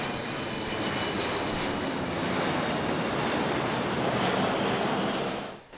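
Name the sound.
C-17 military aircraft landing at Ramstein Air Base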